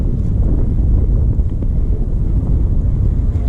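Strong wind buffets a fishing boat on open water, a dense low roar of gusts pressing against the microphone, steady and close throughout with no voices.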